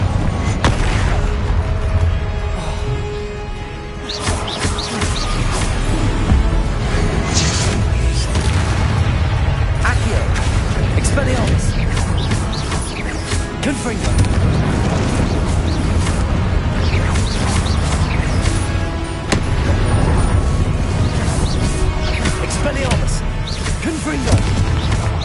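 Confringo blasting spells explode in Hogwarts Legacy, a string of booms, crashes and whooshes layered over dense game sound and intermittent talk across the whole stretch.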